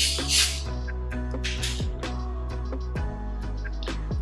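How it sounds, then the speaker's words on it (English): Club soda opened with a brief fizzing hiss, then poured into a glass of ice and vodka, liquid trickling with scattered ice clinks and crackles, close and fairly quiet. "pour the club soda all the way to the top"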